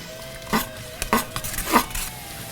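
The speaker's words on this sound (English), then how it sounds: "we're just going to saute that over medium heat until those onions soften up" Diced onions and jalapeño pepper sautéing in a pan over medium heat: three or four distinct stirring clanks and scrapes of a utensil against the pan over a low background sizzle, no talk.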